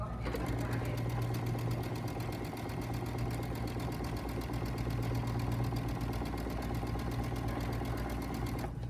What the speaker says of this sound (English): But now we want to sew another line.